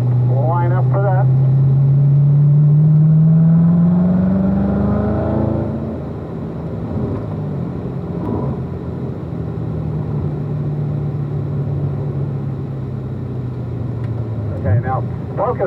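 Corvette Z06 engine on hot laps at Spring Mountain race track, loud and close, with a rising rev early on, then steadier droning and a brief surge near the end, under an instructor's talk.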